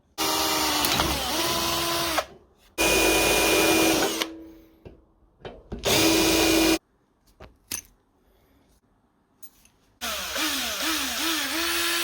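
A power drill bores holes into a handmade Cthulhu mask in repeated loud whining bursts of a couple of seconds each, separated by quiet pauses with small handling knocks, close to the listener.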